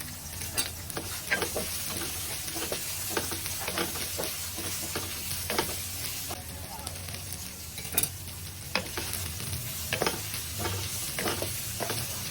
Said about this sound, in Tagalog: doon na rin natin igisa ang syempre ang sibuyas, bawang at ang luya